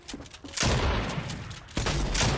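A pump shotgun fires in the video game Fortnite, two loud, close blasts about a second apart, each with a long rumbling tail.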